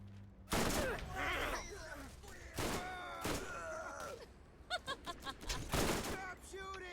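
Gunfire in the video game Borderlands: loud bursts of rapid shots and heavy booms fill the scene, with a voice and game sound effects mixed among the firing.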